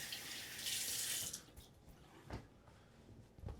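A razor rinsed under a running tap, a close rush of water that lasts about a second and a half, then dies to faint drips and splashes.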